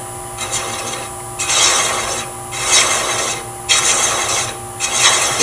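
Repeated rasping strokes of a thread-cutting tool biting into ebony, in a steady rhythm of about five close, loud passes, each a gritty scraping rub.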